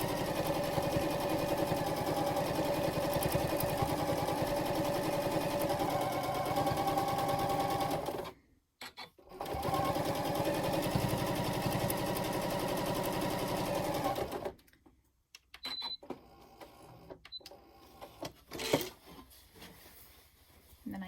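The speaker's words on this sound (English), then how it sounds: "just sew my binding on just like a quilt with my corner seams, 45-inch seams." A sewing machine with a regular foot stitches quilt-style binding onto a pillow in fast continuous whirring runs, pausing briefly once and then stopping, leaving quiet handling sounds of fabric and the machine.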